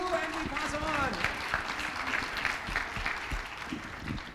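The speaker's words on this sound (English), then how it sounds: "Big applause for you" Audience at a women's leadership forum claps in a dense, steady burst, starting under a brief stretch of a speaker's voice and continuing at even loudness for several seconds.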